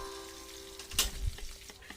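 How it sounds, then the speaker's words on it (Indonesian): Wet Medan anchovies (teri) sizzling in a pan over medium heat, a soft steady frying hiss with a brief louder burst of spatter near the middle, close and alone. "Menggoreng teri Medannya agak lama karena memang posisinya masih basah ya"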